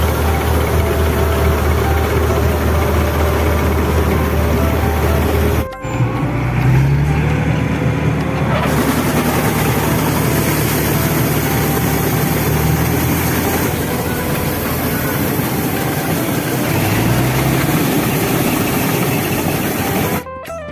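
A tractor engine idles at a farm, giving a steady, loud, low rumble that runs continuously, with a brief dip and change in tone partway through.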